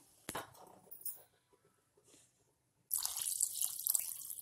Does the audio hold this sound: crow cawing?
no